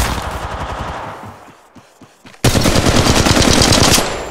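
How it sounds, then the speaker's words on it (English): Rapid automatic gunfire from the mobile battle royale game Apex Legends Mobile, a loud close burst that fades, then a short pause with scattered shots before another dense, sustained volley. "They're shooting at me!"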